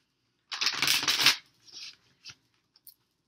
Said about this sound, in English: I'm going to keep on shuffling